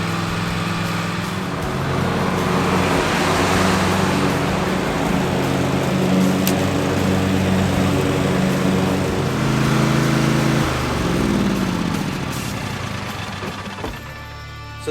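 A Cub Cadet riding lawn mower with freshly sharpened blades drives across a front yard, its engine droning loud and steady close by, the pitch shifting and easing near the end.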